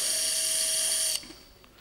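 Power drill whining steadily as it drives a K-wire into a calcaneum bone model at a foot and ankle course, a loud high sustained tone that cuts off abruptly partway through, leaving quiet room sound.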